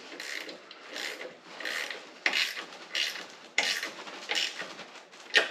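Metal bolts on a Harbor Freight US General 30-inch mechanics tool box caster being tightened, giving repeated close ratcheting, rasping strokes in a steady rhythm with no talking.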